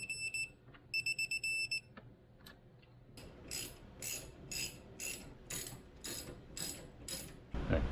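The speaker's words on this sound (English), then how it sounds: "So you'll have to get a torque wrench that can do that." A ratchet torque wrench clicks on the front air strut bolts of a Mercedes W212 E-Class 4Matic. Short electronic beeps come first, then a quick run of sharp, close, evenly spaced ratchet clicks with no talking.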